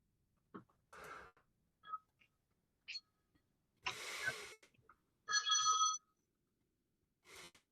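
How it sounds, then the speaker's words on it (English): A short electronic phone ringtone sounds once amid scattered brief noises and rustles, with quiet gaps between them. "You need a better ringtone"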